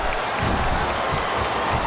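An arena crowd in the wrestling video game WWE SmackDown vs Raw 2008 roars and applauds in a dense, steady wash of cheering.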